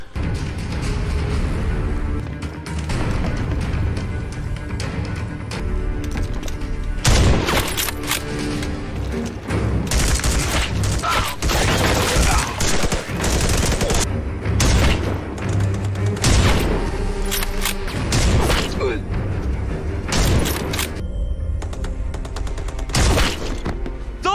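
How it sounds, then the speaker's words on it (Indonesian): A war-film gunfire exchange erupts in repeated loud bursts and booms, with some shattering impacts, over a dense rumbling battle background that continues with little pause. "para pasukan juga harus terlibat baku tembak dengan musuh"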